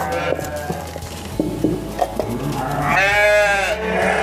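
A Garut goat gives a wavering, drawn-out bleat near the end, after some clattering and shuffling noises nearby.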